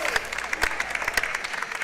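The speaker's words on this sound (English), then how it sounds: "Round of applause from the bleacher seats behind us" Fans in the bleacher seats clap in steady applause at a Home Nations Cup football match between Northern Ireland and England, a continuous crowd patter at moderate distance with some voices mixed in.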